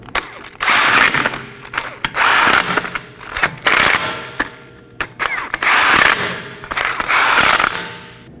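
Hand ratchet snugging lug nuts onto a 2020 Toyota Corolla front wheel, several bursts of rapid clicking with short pauses between strokes, close and clear with no talking.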